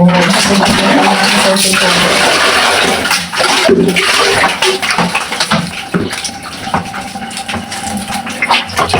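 Laundry is rinsed by hand in a basin for the last rinse, with close, loud sloshing and splashing of water, churning steadily and then turning choppier, with no speech.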